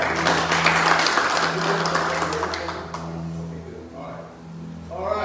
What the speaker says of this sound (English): Lord, round of applause.